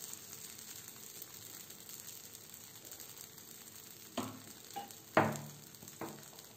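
Lentil adai frying in oil on a pan, a steady low sizzle with a few soft clinks and scrapes toward the end, close and quiet with no talk.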